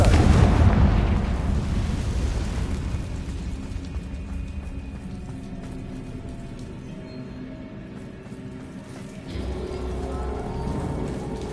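Confringo curse exploding in Hogwarts Legacy, a loud booming blast at the start that rumbles and fades over several seconds, followed by a second, softer burst near the end.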